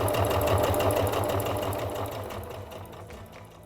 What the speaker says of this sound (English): Just sew these diagonals one at a time using your zigzag.